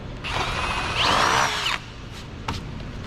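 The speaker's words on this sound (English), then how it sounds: "Drill that out," A power drill whirs up and bores briefly through plastic on a Polaris RZR XP 1000 roof, pitch rising under load for about a second and a half, then stops, followed by small clicks.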